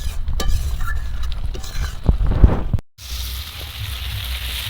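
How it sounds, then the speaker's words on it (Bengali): Spice paste with a little water for Bengali fish curry is stirred in a pan, with close metallic clinks and scraping at first, then a steady, soft frying hiss after a short gap. "এবার মশলা থেকে তেল ছাড়া পর্যন্ত একটু কষিয়ে নেবো।"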